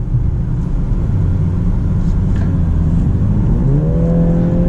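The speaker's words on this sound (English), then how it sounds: "So accelerating on the highway, we still have a really good 0 to 60 time." Turbocharged engine of a 2021 BMW 330i xDrive accelerating hard on a highway: a steady loud rumble and road roar, with engine pitch climbing through rising tones near the end.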